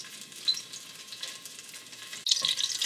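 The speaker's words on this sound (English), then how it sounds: "I'm going to just add the garlic and the bay leaf." Garlic and a bay leaf sizzle in hot oil for a lobster ragu sauce, a steady crackling hiss that flares louder near the end as the pan is stirred.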